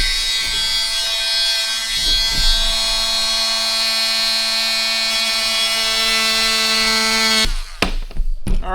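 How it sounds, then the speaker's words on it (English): Oscillating multi-tool cutting a console tray for a 1999-2007 Ford Super Duty or Excursion, a loud steady high-pitched buzzing whine for about seven seconds, then stopping abruptly into short clunks and handling noises. "use our oscillating tool and run around our marks"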